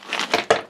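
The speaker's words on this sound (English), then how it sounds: "using tin snips, I'm just going to chop it into smaller bits to make it easier to melt" Tin snips chop lead-tin solder into small bits, a quick run of three close crunching snips in under a second.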